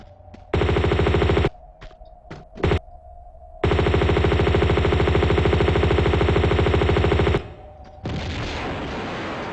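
Sustained M16 automatic fire from the Tomb Raider 2 video game, loud and close in long rapid bursts with a brief pause between them, ending in a noisy rushing tail.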